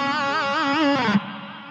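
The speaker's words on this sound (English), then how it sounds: "if we add in the palm muting and that little pinch harmonic" A short distorted electric guitar lick with wide vibrato bends, ending in a squealing pinch harmonic before a palm-muted, chugging note.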